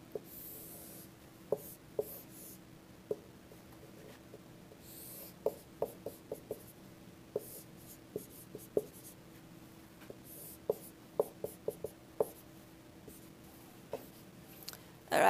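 Pen strokes and taps while drawing physics diagrams, close and dry: scattered short scratches and clicks arriving irregularly over a quiet room background, with no talking.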